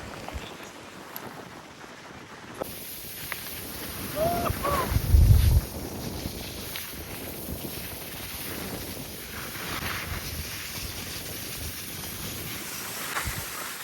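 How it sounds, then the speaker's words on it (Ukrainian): Strong wind on a snowy ski slope buffets the microphone continuously, with a brief low rumble gust partway through and faint voices underneath. "Вітер жорсткий."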